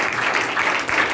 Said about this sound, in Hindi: पुरानी ताली मारने के देखते हुए जोर की ताली।